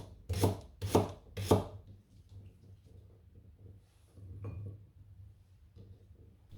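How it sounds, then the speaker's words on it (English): A knife chops forced rhubarb stems on a board in three quick, crisp strokes, then a pause and a softer fourth cut, close and clear without talk. "Then continue chopping the rest of the stems."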